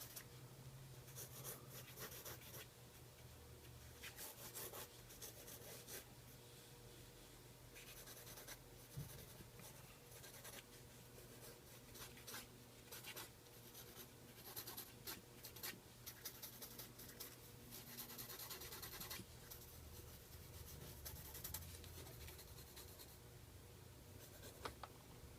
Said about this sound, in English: This is my broad, like just scribbling in there.